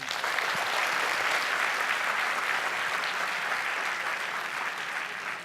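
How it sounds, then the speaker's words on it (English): A keynote audience claps in sustained, dense applause that holds at full strength for several seconds before beginning to taper at the end, with no speech over it. "Can we have a big round of applause of this gentleman?"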